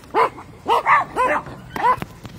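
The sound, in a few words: dogs barking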